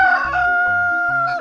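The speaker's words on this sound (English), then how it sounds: "rooster" A farm rooster crows once, a loud close cock-a-doodle-doo held steady for over a second with a strong tonal ring and a slight rise at the end, heard alone without talk.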